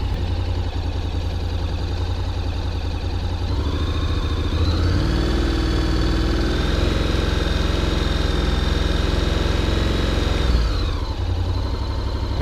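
A 2023 Honda NC750X motorcycle engine runs steadily close by, idling with a low throb, then rising to a higher held rev for several seconds before settling back to idle.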